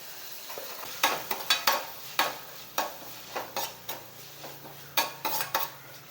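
Chopped tomato and curry leaves frying with ginger garlic paste in a pan, as a spoon scrapes and stirs in repeated clattering strokes over a soft sizzle, close and fairly loud.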